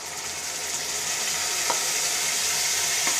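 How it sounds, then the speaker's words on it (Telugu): Tomato puree fries in a pan with eggplant gravy, giving a steady, loud sizzle and hiss throughout, with a couple of faint taps from stirring. "ఇప్పుడు టమాటా ప్యూరీ వేసుకున్నాం."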